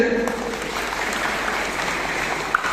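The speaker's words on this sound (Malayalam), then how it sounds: "എല്ലാവരും ഒന്ന് കൈയടിച്ച്." An audience claps together at a talk on addiction, a dense, continuous wash of applause that holds steady from start to finish.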